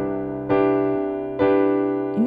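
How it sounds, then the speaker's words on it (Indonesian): Piano playing a major 7 9 chord, struck twice as sustained block chords about a second apart, with a third strike starting at the end; each rings clearly and decays between strikes, alone without talk. "Ini bunyinya kalau major 7 9."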